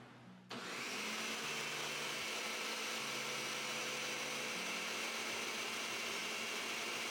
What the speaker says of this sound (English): let's blend it to slightly runny dough-like consistency